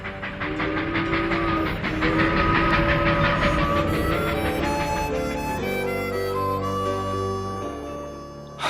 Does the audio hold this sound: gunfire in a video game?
no